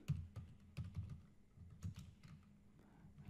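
Computer keyboard typing heard up close as a quick run of irregular clicky keystrokes and short bursts, with brief pauses and no talking, during a copy-and-paste step in a data analysis session.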